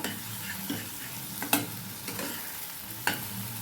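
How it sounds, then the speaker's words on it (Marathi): Egg bhurji is stirred in a frying pan, giving a soft continuous sizzle with a few sharp scrapes and clinks of the spatula against the pan, close and quiet. "अशा पद्धतीने छान अशी मस्त हलवून घ्यायची बघा"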